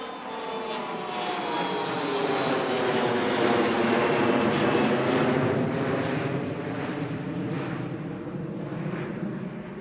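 A jet airliner roars down runway 1 on takeoff at Washington Reagan National Airport, a loud sustained engine rumble that swells toward the middle and holds steady, heard alone without voices.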